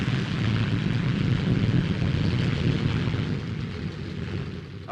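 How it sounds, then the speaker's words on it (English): A P-1067 jet fighter roars past in a dense, rumbling wash of engine noise that holds loud and steady, then eases slightly as it draws away. "the P-1067, the fastest fighter flying today."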